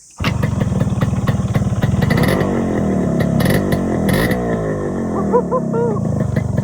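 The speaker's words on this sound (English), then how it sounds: "let me quickly start the RX 100 and hear the beautiful sound" A modified Yamaha RX 100 two-stroke motorcycle fires up in an early morning setting in Goa and settles into a loud, close, burbling idle with occasional throttle blips, while a voice talks briefly near the end.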